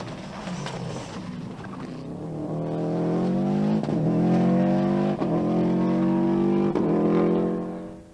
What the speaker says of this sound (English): Mickey Farr from RD County Louth has moved up to 5th with his Subaru legacy.